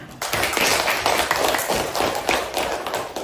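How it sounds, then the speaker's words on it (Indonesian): Classroom of elementary students clapping hands together in a burst of quick, steady, overlapping claps, close and fairly loud, lasting a few seconds. "Kalau tidak, tepuk tangan."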